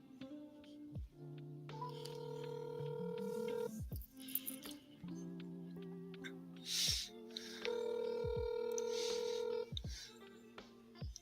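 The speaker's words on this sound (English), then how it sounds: "Let's see if I can make this phone call here." A telephone dials a call, sounding as a series of distinct tones in separate bursts, some held longer than others, quiet and close with no talk.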